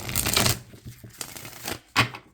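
Self-care cards being shuffled in the hands, a few quick papery riffles and slides with short pauses between them, close and fairly quiet, with no voices.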